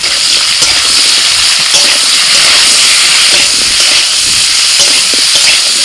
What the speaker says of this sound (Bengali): আলুটা ভেজে নিয়ে ওর মধ্যে আমি এঁচোড়টাও দিয়ে দিচ্ছি